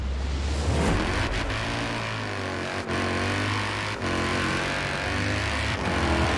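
A Mercedes-AMG C63 engine revs in the Forza Horizon 4 video game: a loud, steady engine drone rising and falling in pitch, with two brief dips where the gears shift.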